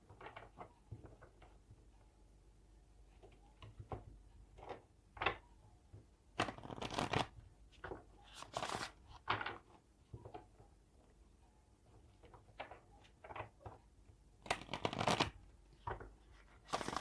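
Oracle cards being shuffled by hand in a series of crisp riffling bursts and softer slides, some longer flurries between quiet handling, close and without talking.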